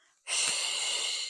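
A single long, breathy exhale during a Pilates workout, starting sharply and holding steady close to the mic for about a second.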